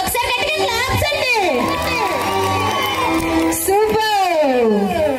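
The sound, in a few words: wedding guests clapping and cheering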